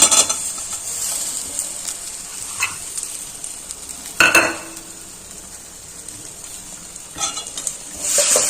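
Jaggery is stirred in a pan as the filling for Ganesh Chaturthi modak cooks. A soft sizzle runs under the stirring, broken by a few sharp scrapes and clinks of the spoon against the pan.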